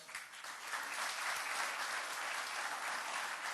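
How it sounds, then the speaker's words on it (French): A crowd at a sports awards ceremony applauds steadily, a dense even wash of clapping throughout with no voices. "on va accueillir sur scène Ishirak Mahafidou sous vos applaudissements."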